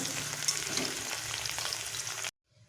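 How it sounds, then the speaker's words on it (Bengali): Potatoes fry in hot oil for a Bengali vegetable curry, giving a steady, dense sizzle that carries on without a break and then cuts off abruptly near the end, followed by faint low noise. "আলুটাকে একটু ভালোভাবে আমি ভেজে নেবো"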